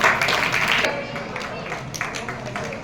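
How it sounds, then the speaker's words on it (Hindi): Crowd clapping at an outdoor rural sports prize announcement during a farmers' martyrs' day gathering, a brief burst of applause that fades quickly as talking continues over it. "बहुत बढ़िया, तालियां बजाओ"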